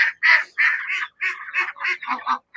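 Muscovy ducks in a backyard pen give a run of close, loud, raspy calls in short bursts with brief gaps, fairly steady rhythm, with no other sounds around them.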